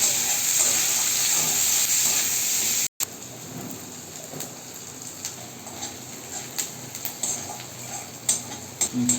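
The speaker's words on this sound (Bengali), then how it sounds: "আমার পেঁয়াজটাকে লাল লাল করে আমি ভেজে নিয়েছি" Chopped onions fry in oil with whole spices for a Bengali potol chingri curry. A loud, dense sizzle is cut off briefly, then gives way to quieter, irregular crackles and pops close by.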